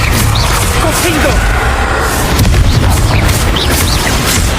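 Fire spell explosion in Hogwarts Legacy, a loud booming blast with crackling debris over a dense, noisy game soundscape, with a voice speaking over it.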